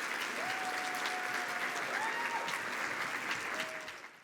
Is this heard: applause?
yes